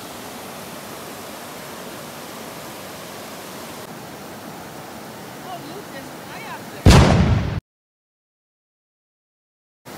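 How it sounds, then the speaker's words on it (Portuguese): Steady roar of a waterfall at the bottom of the falls on Koh Phangan, Thailand, a continuous broadband rush of falling water that swells briefly louder near the end before cutting to silence. "Então, rapaziada, chegamos aqui no final da cachoeira agora."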